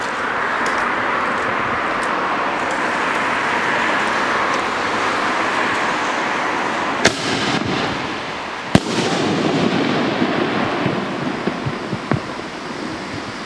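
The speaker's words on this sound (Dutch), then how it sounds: "Cilindershells. 2 inch. Daar gaat de volgende." Two sharp 2-inch cylinder shell fireworks launch by a roadside, cracking out over a steady roar of passing traffic, followed by a few fainter pops.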